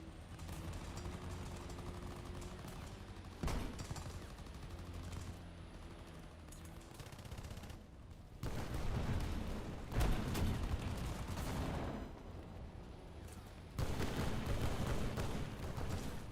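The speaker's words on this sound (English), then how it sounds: "Why is this dude shooting me?" Gunfire in the TDS video game, with loud bursts of automatic and heavy fire arriving in several long barrages separated by brief lulls, and no talk.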